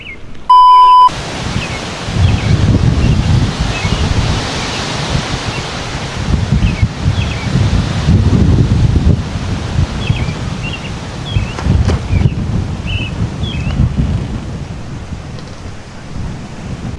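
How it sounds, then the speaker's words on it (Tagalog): Strong wind roars and buffets the microphone steadily throughout at a hilltop campsite, with a brief electronic beep at the start and faint chirps in the background. "Ang lakas pa rin ng hangin."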